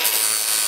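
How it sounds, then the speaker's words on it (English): A cutting machine slicing through a flathead screwdriver shaft: a brief, harsh, steady grinding hiss heard close up with no talk. "Flathead screwdriver. You just take yourself a cutting machine,"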